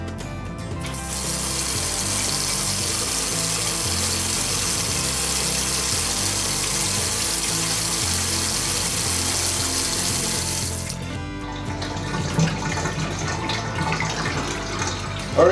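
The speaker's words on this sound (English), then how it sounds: "we'll fill the tub up to about 3 to 4 inches or so, and then we'll drain it to make sure that it drains nicely" Water running into a bathtub during a slow-drain fix, a steady loud rushing gush for about ten seconds, then cut off and replaced by quieter gurgling and trickling as the tub drains.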